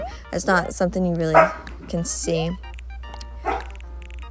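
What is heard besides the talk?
dogs barking while playing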